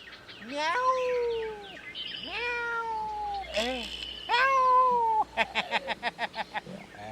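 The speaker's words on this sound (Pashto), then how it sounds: "دوه پیشوګان" Two cats meow loudly and close, trading several long drawn-out calls followed by a quick run of short chirping mews, with no talk.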